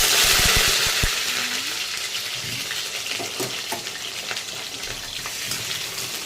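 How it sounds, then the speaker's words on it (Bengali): Potatoes frying in hot oil at home, a steady close sizzle with a few sharp clinks and stirring bumps near the start, no voices. "আলুটাকে ভেজে নেব"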